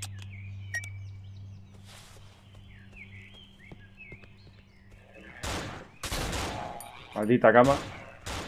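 Gunfire aimed at the player in the horror game Cry of Fear, bursts of shots cracking out near the end after quieter ambient stretches, with someone speaking Spanish briefly in between.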